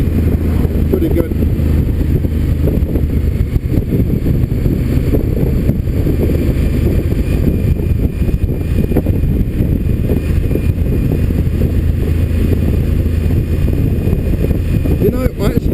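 A 2016 Honda Africa Twin motorcycle is ridden at a steady pace, its engine drone continuous under heavy wind rush for the whole stretch while a rider talks over it.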